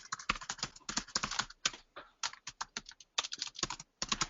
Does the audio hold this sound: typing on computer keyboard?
yes